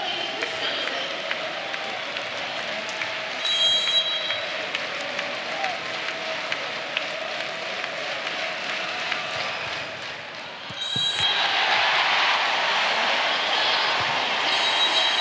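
A home crowd at a Wisconsin versus Penn State NCAA volleyball regional semifinal roars and applauds in a large arena as a set is won, a steady loud wash of cheering that swells further near the end.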